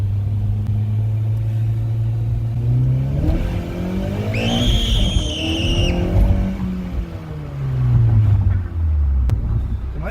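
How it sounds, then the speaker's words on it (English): Tires of a 2014 Honda Civic Si with an Invidia Q300 exhaust squeal in a rising, wavering screech over a steady engine drone, with the motor revving up and down around it. "Did my tires squeal?"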